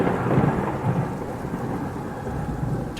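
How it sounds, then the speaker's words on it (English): Thunder from a lightning strike rumbles low and heavy beneath steady rain. The loud, dense roar holds for about three seconds with no voices. "Lightning crashed down into the idol."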